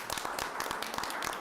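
Applause from a school committee meeting audience as athletes stand to be recognized, a steady patter of many hands clapping at moderate distance, fairly quiet and continuous.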